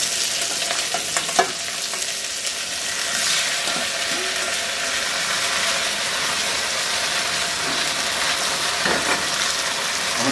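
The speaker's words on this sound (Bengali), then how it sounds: "এইগুলাকে আমি একটু হাই ফ্লেমে ভেজে নিব।" Eggplant pieces frying in a pan over a high flame for a potato-eggplant bhaji, giving a steady close sizzle with occasional stirring clicks and no talk.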